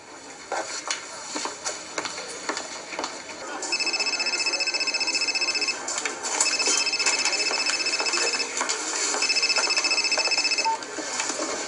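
A telephone rings in repeated electronic bursts, three long rings separated by short gaps, fairly loud and close over a busy indoor background.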